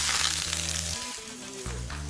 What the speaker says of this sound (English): I'm going to sauté them, which is just the chef's term for shallow frying on a high heat